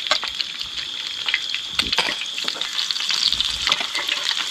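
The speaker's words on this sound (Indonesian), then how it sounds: "kita goreng ikan dulu" Fish fries in a pan with an outdoor cooking setup, giving a loud, steady crackling sizzle with sharp spitting pops throughout and no voices.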